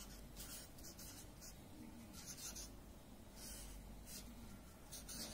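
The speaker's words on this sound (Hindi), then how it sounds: "आपको नीचे लिखना है ओम" A pen scratches across paper in short, soft strokes with pauses between them, close and quiet against a steady background hiss, as a mantra and names are written out for a ritual involving black peppercorns.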